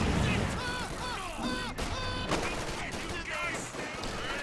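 Light machine gun fire rattles in rapid, continuous bursts in a competitive online shooter match, loud and close, layered with game effects and chiming tones, with no voice over it.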